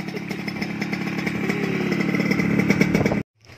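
Yamaha RX-King racing motorcycle engine revved on test: a loud, steady two-stroke buzz with rising throttle that cuts off abruptly near the end, with no talking.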